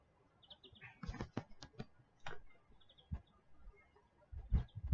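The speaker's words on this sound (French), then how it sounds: "Les oiseaux chantent comme jamais." Outdoors, birds sing and chirp in scattered short calls, fairly faint, against a quiet open-air background with no talk.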